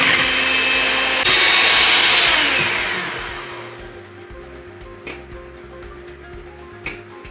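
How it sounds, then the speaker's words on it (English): Electric hand mixer whipping three separated egg whites toward soft peaks, a steady loud motor whir for about three seconds that then drops to a quieter hum with small clinks of the beaters against the bowl. "I got 3 eggs that have been separated, and I'm gonna make egg whites."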